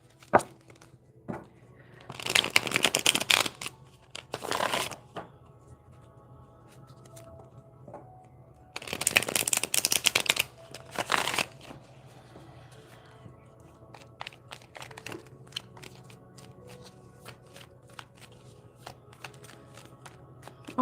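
Playing cards are handled and shuffled at close range, with two louder bursts of riffling and a few softer shuffles between quiet stretches of light handling and small taps.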